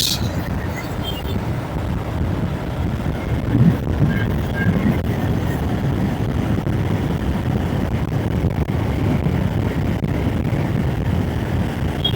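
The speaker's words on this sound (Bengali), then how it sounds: "বাতাস" Steady wind roars and buffets the microphone of a motorbike rider on a Dhaka road for the whole stretch, a constant low rushing noise with no voices.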